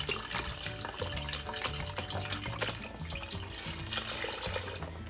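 Vegetable stock glugs steadily as it is poured from a container into a Ninja Foodi multicooker pot, a continuous close-up splashing and gurgling stream with no talking over it.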